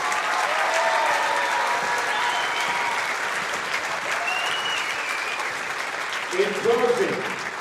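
A crowd at a high school basketball game between the West Burlington Notre Dame Falcons and Burlington applauds loudly and continuously, with clapping filling the gym and a few voices calling out near the end.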